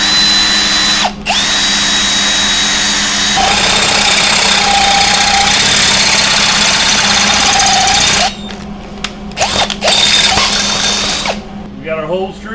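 A power drill bores 3/8-inch holes through a steel go-kart frame tube, whining loudly and steadily for several seconds, then stopping and starting in short bursts near the end.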